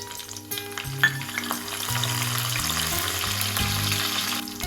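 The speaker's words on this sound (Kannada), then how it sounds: "ಸಾಸಿವೆ ಜೀರಿಗೆ ಚಟಪಟ ಅನ್ಬೇಕ್ರಿ." Mustard seeds and cumin crackle and splutter in hot oil as a tempering for a moong dal and drumstick-leaf palya, a steady dense sizzle running the whole time beneath background music.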